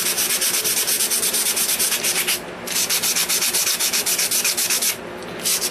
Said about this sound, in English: shape and sand and sand and sand.